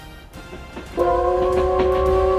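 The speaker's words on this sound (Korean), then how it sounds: "곡성 기차마을의 증기기관차가 눈길을 끕니다" A steam locomotive at Gokseong train village sounds its whistle, a loud sustained multi-tone blast starting about one second in and holding steady to the end, over a low rumble of the train.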